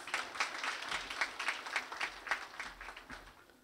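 Audience applause at a Hindu school graduation ceremony in Tunapuna, with a steady patter of many hands clapping at moderate distance that fades toward the end.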